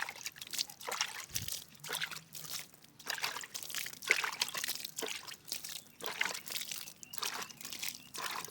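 Water trickles and splashes steadily onto soil where chili seeds are sown, with soft crunchy, sloshing pulses repeating close by for several seconds.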